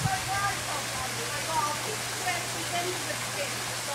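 Steady, fairly faint rushing hiss of river water flowing at an otter enclosure, continuous and even throughout, with indistinct voices faintly in the background.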